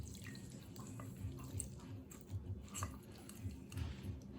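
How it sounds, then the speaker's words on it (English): Juice dripping from hand-squeezed citrus fruit in a kitchen, a steady run of soft, close drips and small wet splashes at low level with no talk. "it's going to juice that citrus fruit"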